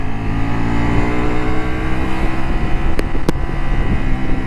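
Ducati Multistrada V4 Rally motorcycle engine in full power mode, a steady loud drone under heavy wind rush, with no clear rise or fall in pitch and no talking over it.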